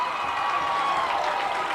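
A baseball crowd at a high school game between Davis and Lehi erupts in steady cheering and applause after a strikeout ends the top of the seventh, a dense sustained roar throughout.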